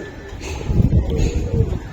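Giribaj high flyer pigeons cooing nearby, a few soft low throaty coos over a faint background hum.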